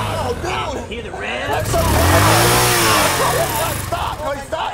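A motorcycle engine revs loudly and close by, the roar swelling and falling in one sustained burst, with voices talking over it before and after.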